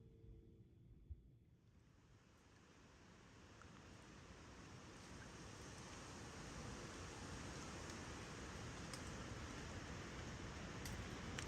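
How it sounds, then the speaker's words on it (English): A broad, steady hiss like TV white noise that rises slightly and then holds, filling the clip evenly with no voices. "Sounds like white noise on the TV set at 2 a.m."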